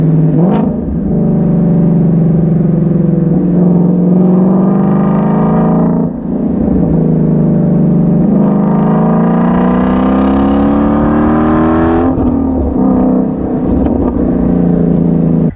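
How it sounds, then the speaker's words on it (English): A Shelby GT350's exhaust note booms close and loud while driving, with the engine pitch climbing in long rising sweeps, dipping at each gear change, then climbing again. "The only thing that makes noise is the exhaust, which is the only thing you want to hear."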